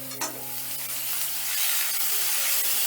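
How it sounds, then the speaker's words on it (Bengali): A large chopped onion fries in hot oil in a pan for a Gujarati soybean curry, stirred with a spatula. The close, bright hiss builds louder toward the end after an early clack. "এবার পেঁয়াজটাকেও হালকা লাল করে ভেজে নেব"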